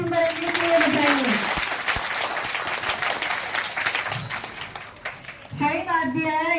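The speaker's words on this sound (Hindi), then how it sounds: "जोरदार तालियां वसीम बरेली के लिए बजाइए" Loud, sustained crowd applause at an Urdu school mushaira honours the poet Wasim Barelvi, a dense wash of clapping through most of the stretch before a voice begins speaking near the end.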